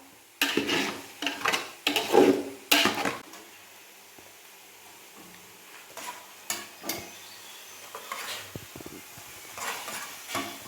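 Curry leaves being stirred into chicken biryani masala in a pot, with a spoon scraping and clinking against the metal in irregular bursts and a faint sizzle between strokes, close by and with no talking.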